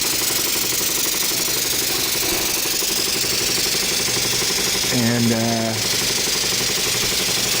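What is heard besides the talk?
Stuart 501 vintage steam engine running on its boiler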